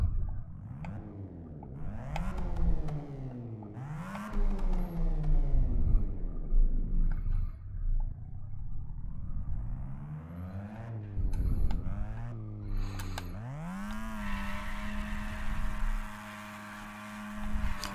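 A stock Mazda 13B rotary-engined car idles and revs, its pitch rising and falling in smooth sweeps before settling into a steady, buzzy drone.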